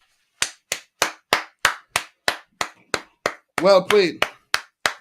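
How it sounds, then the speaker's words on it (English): One person claps steadily at close range, about a dozen sharp, evenly spaced claps, with a brief spoken remark partway through in a football commentary setting. "Round of applause, man."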